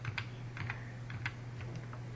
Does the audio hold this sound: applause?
no